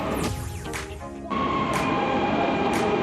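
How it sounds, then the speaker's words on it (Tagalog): Train rolling past at a station, a steady mechanical rumble with wheel noise and a faint high squeal, fairly close and continuous with no talk. "yan guys yung train yan pero hindi yan yung papunta sa atin"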